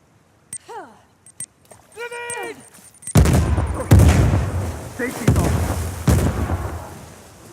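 In the video game Uncharted, a grenade goes off with a sudden loud blast after quiet game sounds, followed by several more booms and rumbling gunfire-like bursts continuing to the end.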